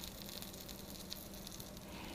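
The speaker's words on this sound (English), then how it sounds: "You should hear a steady but gentle sizzle coming from your pan" A matzo tortilla browns in a pan with a faint, steady, gentle sizzle, a soft continuous hiss without pauses or voices.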